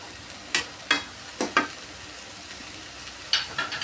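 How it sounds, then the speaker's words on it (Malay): A spatula scraping and stirring tofu, bean sprouts and garlic chives in a small sizzling wok, a handful of sharp metallic strokes spaced irregularly over soft frying. "Kuali ni tak berapa besar ya. Jadi kena kacaunya perlahan-perlahan lah."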